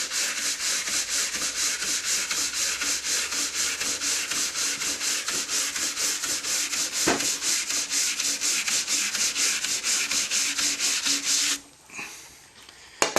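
Stiff brush scrubbing wax out of a ski base in fast, steady back-and-forth strokes, close and loud for about eleven seconds before stopping abruptly.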